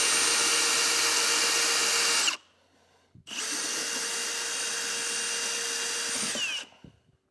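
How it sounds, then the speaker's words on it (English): A 1 3/4 inch hole saw radiuses the corners of a base plate opening on a 2024 Jeep Wrangler, making two long, loud, steady drilling bursts separated by a short pause, close up with no talk. "you're going to need an 1 3/4" hole saw in order to radius the corners"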